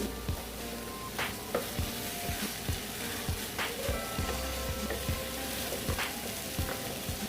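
Ridge gourd and egg sautéing in a pan, a steady close sizzle and frying hiss with scattered stirring scrapes and clinks, no talking.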